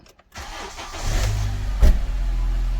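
A Honda car showing a check engine light for a coolant temperature code cranks briefly and fires up, settling into a low, steady idle with a quick rev bump, close and fairly loud after a short silence.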